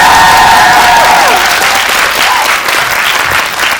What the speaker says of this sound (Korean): 박수로 한번 다시.